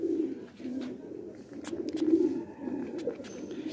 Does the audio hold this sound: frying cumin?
no